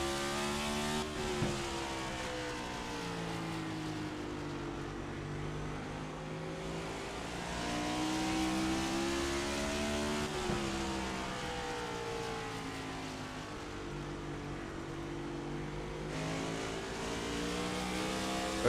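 Race trucks circling North Wilkesboro under lap traffic, giving a continuous multi-engine drone with rising and falling pitch as they pass, steady and moderately distant, with no talking.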